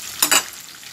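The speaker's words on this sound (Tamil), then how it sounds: "முதல்ல வந்து இந்த சாப் பண்ண ஆனியனை போட்டுடலாம்" Chopped onions tipped into hot oil for a Burmese-style prawn and ridge gourd side dish give a short, loud sizzling burst near the start that quickly settles into a faint background hiss.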